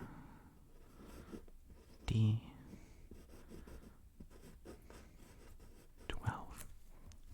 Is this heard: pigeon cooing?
no